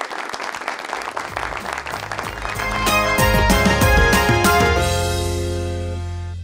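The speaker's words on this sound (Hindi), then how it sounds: "ढेर सारी तालियां" Studio audience applause on a talk show, a dense burst of clapping that builds and peaks in the middle before fading out, mixed with a swelling musical sting toward the end.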